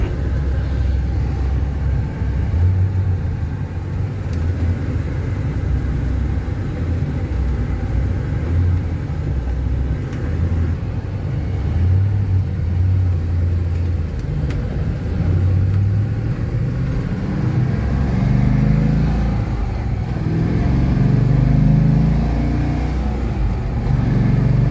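A 1970 Buick GS with a swapped LS1 V8 accelerates on the road, its steady low engine rumble rising gradually in pitch and loudness as it pulls up through speed, heard from inside the car without talk.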